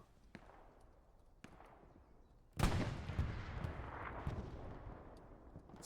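Rockets fire in a video game battle, with a few sharp distant pops early on. Then a loud, sudden blast gives way to sustained rumbling explosions and crackling gunfire that carry on to the end.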